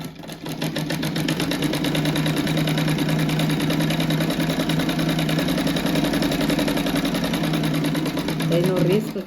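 Sewing machine running steadily as it stitches a narrow 2 cm fabric strip for a rabbit-shaped rug, its motor whirring in a continuous, even buzz from start to finish.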